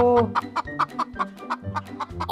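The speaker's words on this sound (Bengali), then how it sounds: "একটা মুরগি আমাকে খেতে আসছে" A cartoon chicken gives a rapid series of loud, close, throaty clucks in an uneven rhythm, with about a dozen separate calls and nothing else audible.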